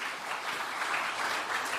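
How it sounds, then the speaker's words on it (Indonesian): A dense, steady burst of audience applause at an indoor political gathering in Jakarta, filling the whole stretch evenly without a break and heard alone with no voices over it. "Kita berikan tepuk tangan yang meriah buat beliau."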